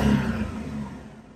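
A Daihatsu Cuore with an upgraded engine during a restoration revs briefly, giving a smooth, close mechanical hum that swells at the start and eases off within a second or so.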